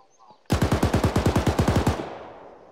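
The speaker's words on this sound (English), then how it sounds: "Enemy contacts, rapid fire." Rapid machine gun fire in the video game Arma 3, a single sustained burst of about fifteen evenly spaced, loud shots lasting roughly a second and a half, then a fading echo.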